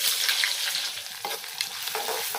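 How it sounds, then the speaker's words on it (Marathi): Onion and tomato tempering sizzles and fries steadily in a pan for a village-style Kokan usal, with a continuous close crackle and a few soft stirring scrapes, no voices. "फक्त कांदा टोमॅटोची फोडणी घालते, बाकी काही घालणार नाही."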